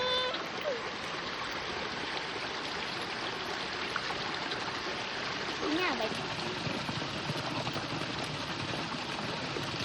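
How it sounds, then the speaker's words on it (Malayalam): A small waterfall out in a farm setting, a steady broadband rush of falling water close by, with a voice speaking faintly beneath it. "ഞങ്ങളൊരു കുഞ്ഞു വെള്ളച്ചാട്ടം ഇങ്ങനെ കാണിച്ചു തരാം"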